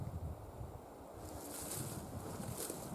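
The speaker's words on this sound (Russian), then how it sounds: "Когда дует ветер. Сильный ветер. Лес гудит." Strong wind roars in gusts through taiga forest, a broad rushing hiss that swells and eases, with no voices.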